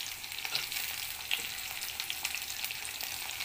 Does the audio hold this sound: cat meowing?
no